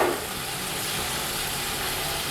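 Red chili powder dropped into hot oil for a Pakistani deghi-style chana rice, giving a loud, steady frying sizzle that holds evenly throughout with no voices.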